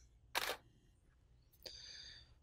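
A DSLR shutter fires once with a Canon 430EX II Speedlite flash, a short crisp mechanical click, followed about a second later by the faint rising whine of the flash recharging in a quiet room.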